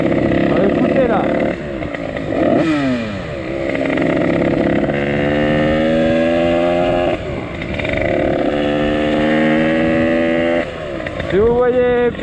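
A motorcycle engine, an 86 cc bike, runs loudly and up close, revving up and down repeatedly through gear changes, with a person talking over it.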